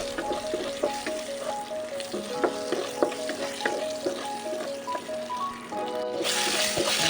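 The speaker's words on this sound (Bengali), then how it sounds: "এবার ওই তেলের মধ্যে আলুটা ভাজতে বসিয়ে দেবো" Salted potatoes frying in oil in a pan for biryani, a continuous close sizzle with scattered clinks and stirring taps, a faint tonal hum running underneath, no talking.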